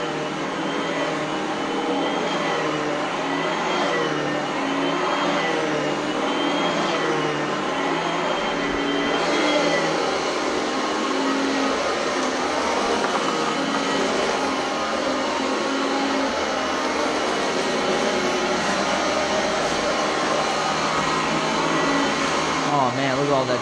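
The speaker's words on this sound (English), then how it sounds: "Listen to that dirt just sucking." An Oreck Elevate Conquer upright vacuum cleaner runs continuously, its loud, steady motor roar rattling as it sucks up dirt while vacuuming a house, with a person talking over it.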